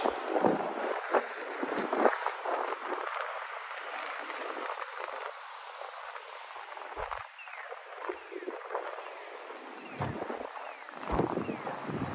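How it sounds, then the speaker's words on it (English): Sharp winter wind blows steadily outdoors on a cold downtown Regina street, a broad rushing roar with gusts that swell and dip throughout, loud and close against the microphone. "It's a sharp wind blowing behind me."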